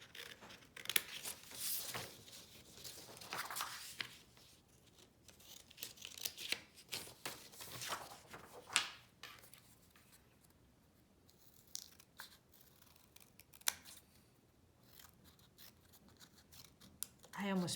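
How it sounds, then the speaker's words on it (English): Scissors snip and slice through paper while cutting out a folded paper shape, with sharp crisp cuts and crinkling in quick bursts, busiest in the first half and then sparser, close up and fairly quiet. "I'm just going to go ahead and cut out a shape."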